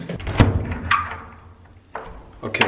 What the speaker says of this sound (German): Okay, jetzt ist die Tür zu.